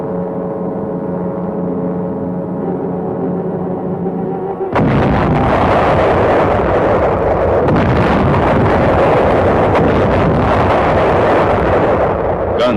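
Naval guns of a 262-ship United Nations armada bombard Wolmi Island at dawn, a dense roaring barrage of blasts that bursts in abruptly after a steady low drone and keeps rumbling loudly.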